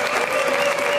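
Parliament members in Slovakia applauding the result of a no-confidence vote that brought down the coalition government, a steady unbroken wash of clapping heard alone.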